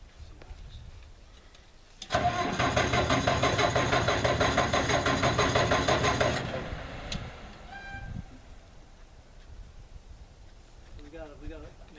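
A 1959 Warner-Swaysey Hopto backhoe engine catches abruptly and runs loud and close with a dense rattling drone for about four seconds, then dies away. People talk quietly before and after.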